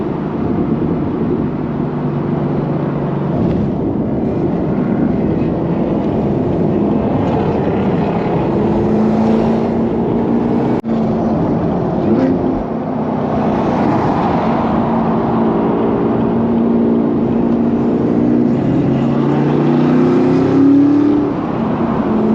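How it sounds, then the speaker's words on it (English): A constant loud engine roar with a rising, high-pitched supercharger whine that swells and fades, heard from inside a moving Camaro ZL1 1LE. "You can really hear that supercharger screaming today"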